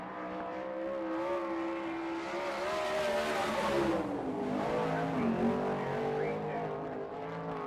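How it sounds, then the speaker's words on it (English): A sprint car running a qualifying lap at Fremont, Ohio in an All Star Circuit of Champions race, its engine roaring continuously with rising and falling pitch as it circles the track at a steady, fairly loud level. "the first lap for Ed Lynch"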